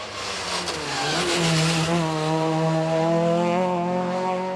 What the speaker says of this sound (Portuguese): Armindo Correia trouxe para o Campeonato de Montanha um Ford Escort RS 2000